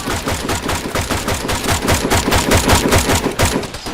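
Heavy machine gun fire from the video game ARMA 3 rattles in a rapid, continuous burst of loud, closely spaced shots for the whole span.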